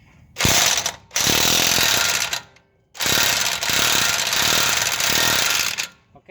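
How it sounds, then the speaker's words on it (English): Loud, rapid ratcheting from a tool loosening a nut on the CV shaft of a 2017 Dodge 1500, running in two long bursts separated by short pauses. "I'm just going to loosen that nut"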